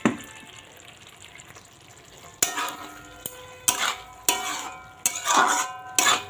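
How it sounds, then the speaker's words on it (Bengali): Fried potatoes tipped into a frying pan: a quiet low sizzle at first, then a run of sharp, loud clattering stirs and scrapes with bursts of frying hiss, close up and without talk. "ভেজে রাখা আলুগুলো দিয়ে দিলাম।"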